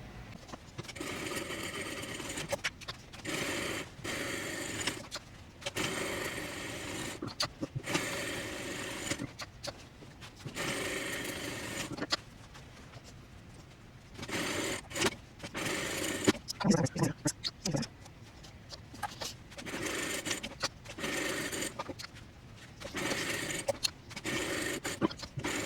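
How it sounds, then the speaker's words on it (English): A sewing machine quilts fabric layered with thick batting, running in steady whirring bursts of stitching broken by brief stops, close and moderately loud. "I was able to quilt some of the fabric"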